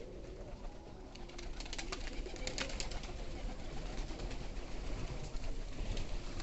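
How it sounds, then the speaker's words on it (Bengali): A pigeon coos near a pigeon farm, soft repeated low calls over a constant outdoor background hum, with no talk. "কবুতরটা খুব সুন্দর ডাকতেছে"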